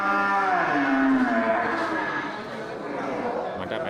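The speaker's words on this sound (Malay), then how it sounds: "untuk sapi indukan dari jenis sapi simental ini dibuka harga oleh juragan yang sama." Simmental breeding cows low and moo at a livestock market, a long loud bellow up close followed by more mooing, with crowd chatter and voices talking in the background.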